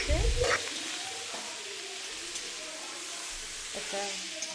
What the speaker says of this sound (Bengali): বেগুনগুলো সব ভেজে নেবে, বেশ নুন হলুদ দিয়ে বেগুনটাকে অল্প করে ভেজে নিচ্ছে।